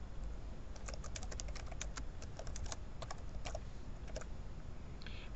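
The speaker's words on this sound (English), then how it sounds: "Let's type some text in." Keys clatter on a computer keyboard as text is typed into an online forum post, a close run of quick irregular taps with short pauses, heard over a steady low hum with no voices.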